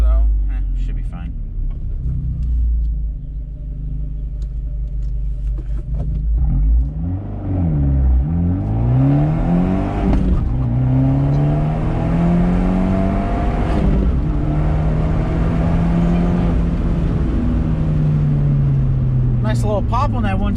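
Fiat 124 Spider Abarth accelerating hard from a standstill, engine note rising and sweeping through gears with a quick pop on the 1-2 shift, loud in-cabin rumble with someone talking over it.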